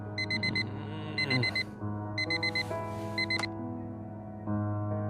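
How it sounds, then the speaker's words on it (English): An alarm clock tone in the video game Fragments of Him rings in repeated clusters of rapid electronic beeps over soft, sustained ambient music. "The same alarm tone that Harry can sleep through."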